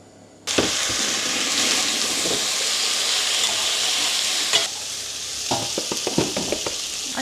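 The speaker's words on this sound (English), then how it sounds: "I sauteed everything for about 5 minutes on medium high" Washed rice and browned thin pasta for pilav sauté over medium-high heat, starting with a sudden loud hiss that settles into continuous sizzling, then several quick scrapes and taps of a spoon stirring near the end.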